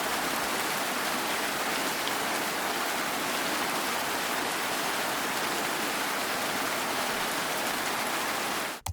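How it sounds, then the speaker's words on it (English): Heavy rain pours down in a steady, dense hiss for the whole stretch, loud and close with no pauses, then cuts off abruptly at the very end. "it opened up and rained. It rained a lot"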